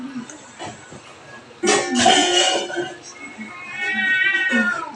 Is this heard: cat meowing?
yes